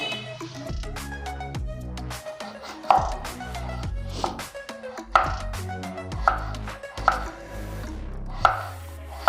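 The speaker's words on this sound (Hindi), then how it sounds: "हम आलू को जो है ना इस तरह से स्लाइसेस में काट लेंगे।" A knife slices through potatoes in a run of sharp, fairly loud chopping taps with an uneven rhythm while preparing a potato-and-egg breakfast dish; steady tonal background music plays underneath.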